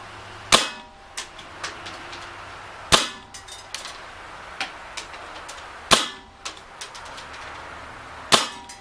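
Umarex TDP 45 CO2 BB pistol fires four sharp, loud cracks at regular intervals of about three seconds, each followed by fainter metallic clinks of BBs hitting targets outdoors.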